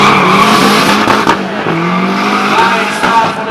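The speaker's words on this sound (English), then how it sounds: "Nice start for the Subaru." A Subaru drag car launches hard off the start line at a JamWest Speedway elimination event. Its engine roars loudly and continuously, and a rising whine and tyre squeal sit over the din.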